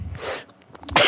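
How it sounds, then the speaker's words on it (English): One person's sneeze, a quick breathy burst followed by a sharper noisy exhale, close and fairly loud. "I sneezed."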